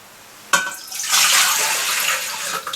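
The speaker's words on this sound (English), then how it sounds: "So we'll start now, we'll put the water in." Water is poured into a bread machine pan to start the dough. It begins with a sharp splash, then runs as a steady, close, hissing stream that wavers slightly before tailing off, with no talking.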